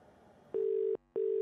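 Telephone ringback tone on an unanswered call: two long, steady electronic beeps separated by a short silent gap, following a faint murmur at the start.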